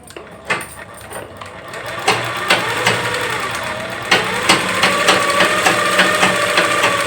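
A sewing machine stitches a dart on a blouse front, running steadily with a mechanical whirr and rhythmic clicks, loud and close, with small knocks as the fabric is handled.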